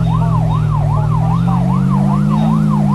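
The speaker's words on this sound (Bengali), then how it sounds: "দেখো কয়টা পুলিশের গাড়ি আসবে আমার ধরা" Police car sirens wail in a driving video game as cops give chase, a steady rising-and-falling electronic siren looping loudly over a constant low engine drone, with no talking.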